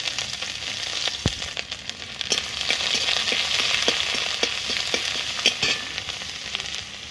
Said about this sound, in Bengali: দেখেন আমরা পাঁচ ফোড়ন দিয়ে দিলাম তেজপাতা দিয়ে দিলাম দেখেন আদা দিয়ে দিলাম